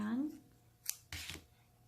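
Scissors snip off the extra yarn after a crochet slip stitch joins a mini square dishcloth, giving a short crisp double cut near the mic after a brief moment of speech.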